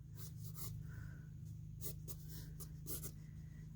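Pencil sketching a small thumbnail box on paper, a few quick faint scratchy strokes in short bursts over a low steady hum, close and quiet.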